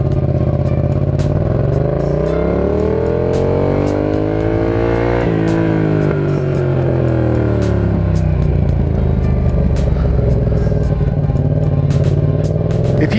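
A Yamaha FZ-07 motorcycle is being ridden, its engine rumbling loud and close as it revs up and down through smooth rising and falling sweeps with faint clicks and wind noise.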